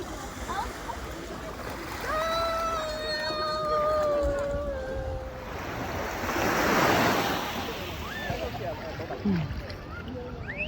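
Ocean surf washes ashore at a beach, a broad rushing swell building and fading with a few splashes, while tonal bird-like or voice sounds ride over the first half.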